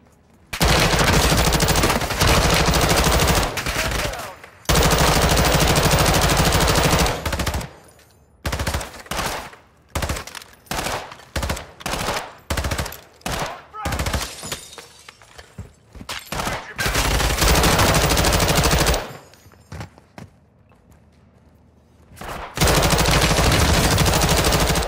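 Call of Duty Modern Warfare II gunfire: sustained loud automatic bursts alternate with rapid single shots and short pauses, dense and close, with long continuous streams of fire at the start, middle and end.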